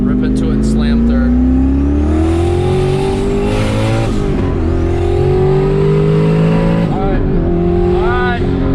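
Turbocharged LS1 Camaro accelerating hard on a backroad, its engine loud and close as it revs up through the gears with a pitch drop at each shift, and a voice speaking briefly over the roar.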